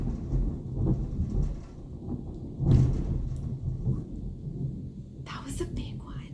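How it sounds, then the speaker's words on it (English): Thunder rumbles outside during a thunderstorm, a low rolling boom swelling around the middle and fading, with muffled crackles and faint rain under soft indoor room noise. "it's like thundering and lightning outside."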